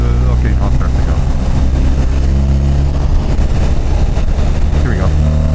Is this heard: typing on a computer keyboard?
no